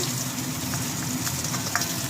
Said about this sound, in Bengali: আমার মাছের লেজা দুটো লাল লাল করে আমি ভেজে নিয়েছি